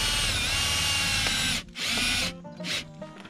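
A power drill whines loudly at close range tightening an RV stabilizer wheel chock, pauses briefly, then gives a couple of short bursts as the fitting tightens.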